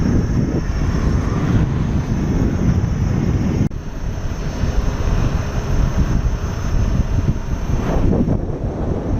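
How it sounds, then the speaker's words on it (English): Heavy wind buffets a microphone outdoors on a ride on a Ninebot Z10, a loud continuous low rumble with gusty swells and a brief dropout midway. "it's windy as well. Getting bounced around pretty good here."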